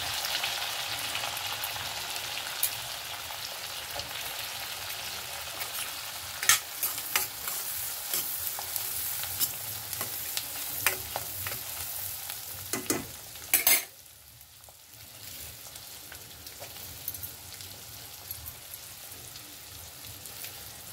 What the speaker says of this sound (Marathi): कांदा टाकून घेऊया।